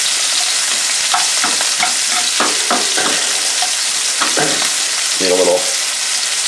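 Green beans frying in butter in a pan, a steady broad sizzle throughout with intermittent stirring clatters, and a brief muffled voice toward the end.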